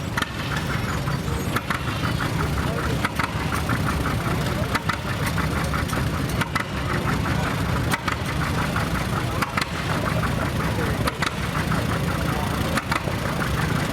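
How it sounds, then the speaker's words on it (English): A 1938 Allis Chalmers WC tractor runs in an antique tractor show parade, its engine chugging steadily and loud throughout amid outdoor crowd noise and a voice speaking over it. "Here comes another tractor. This is an Allis Chalmers WC from 1938."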